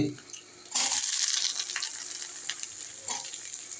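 Chopped onions hit hot oil in a kadai and sizzle loudly and steadily for a few seconds, with faint stirring and a bit of water-like noise under the frying.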